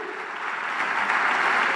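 Steady audience applause at a carnival murga performance, a dense wash of clapping that swells slightly and holds throughout, with no talking.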